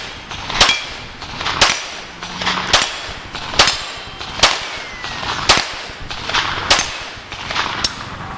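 A Browning Buck Mark pistol fires about ten sharp, evenly spaced shots at an outdoor range, each crack loud and close with a short ringing tail, following a steady roughly one-per-second rhythm.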